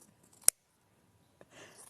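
Fabric is cut into small pieces with sewing scissors: one sharp, close snip, then a fainter second cut followed by soft rustling of cloth. No one speaks.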